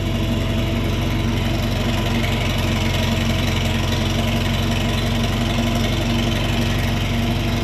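A 1955 Farmall 400 tractor engine idles at low throttle, giving a loud, close, steady low rumble with an even rhythmic pulse throughout and no talking.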